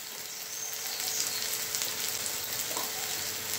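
Diced potato and cluster beans sauté in hot oil for a gavar-batata curry, giving a steady, close sizzling hiss with faint stirring underneath.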